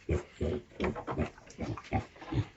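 Young piglets grunt close by in a quick run of about eight short, rhythmic oinks and snorts, with no talk over them.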